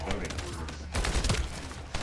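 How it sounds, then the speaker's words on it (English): Rapid gunfire from a shooting video game, a dense run of shots with a louder burst in the middle, heard under ongoing talk and game noise. "This is a game that's literally all shooting."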